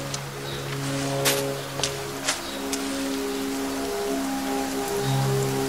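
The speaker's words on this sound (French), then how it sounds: "Il pleut." Steady rain pours down in The Forest on PS4, a continuous wash of hiss with a few sharper drop taps, layered over sustained tonal hum from the game.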